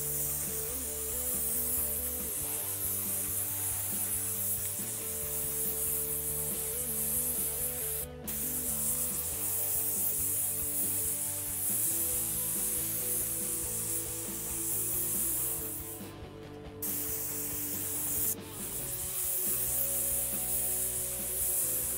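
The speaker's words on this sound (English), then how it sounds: "we're gonna spray this door" A paint sprayer sprays a door in one steady overlapping coat, a continuous loud hiss running the whole time with brief gaps where the trigger releases, no talking.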